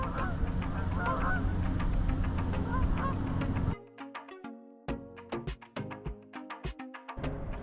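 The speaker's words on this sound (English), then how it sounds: "Geese are out there." Geese honk repeatedly outdoors on the Lake Erie shore at sunrise, a dense chorus at first, then sharper scattered honks over quieter background.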